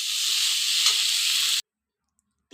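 Pumpkin leaves sizzle in a hot pan, a steady close hiss for about a second and a half before it cuts off abruptly into silence, then a brief return.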